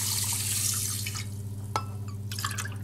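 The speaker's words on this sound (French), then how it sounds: "je mets 2 fois le volume de riz d'eau" Water poured into a large saucepan of rice, a close, continuous splashing stream over a low kitchen hum that eases into scattered drips and small clinks.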